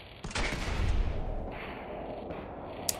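Automated gun turrets in Fallout 4 open fire in a short burst of rapid shots that fades into a lingering rumble, with a sharp crack near the end; fairly quiet overall.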